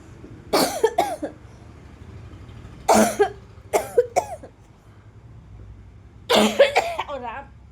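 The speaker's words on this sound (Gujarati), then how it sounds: "ઉધરસ ચડી ગઈ" Three bursts of harsh coughing, each a quick cluster of two or three coughs, spaced a couple of seconds apart, close and fairly loud.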